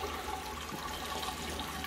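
Sparge water runs through a brewing screen during home beer brewing, a steady close trickle and gurgle of liquid that lasts the whole short stretch.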